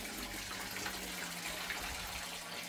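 Fresh, clean water pours steadily for animals to drink on a hot day, a continuous splashing gush at moderate level with no pauses, heard alone without talk.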